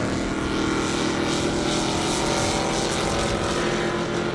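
A 1968 Camaro drag car launches down a half-mile airport drag strip, its engine a loud, steady, broadband roar that holds without a break for several seconds.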